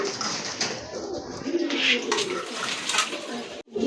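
Pigeons coo softly in a breeder's loft, low repeated throaty calls rising and falling over a busy background of rustling and small clatters, close by.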